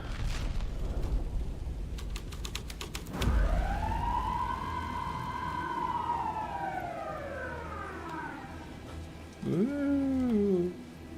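Police car siren in the game Alan Wake 2: a rapid burst of clicks, then one long rising-and-falling wail, a short pause and a brief second whoop, loud and nearby with no talking.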